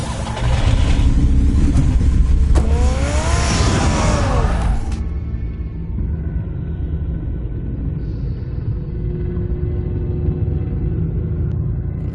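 Batmobile engine in the Batman Telltale game, a loud rumbling roar that revs up with rising pitch sweeps before cutting off, leaving a low idling rumble.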